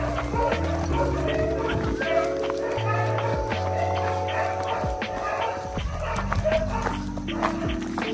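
Dogs bark repeatedly by a lake in a river valley in El Salvador, over a steady mix of tones and background noise, with people talking nearby.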